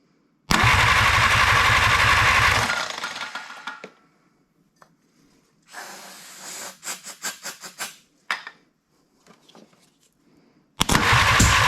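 Willys CJ-2A Jeep with a newly installed engine, primed with ether, cranks and fires loudly for a few seconds, then falls silent before a series of shorter sputtering crank bursts and another loud catch at the end.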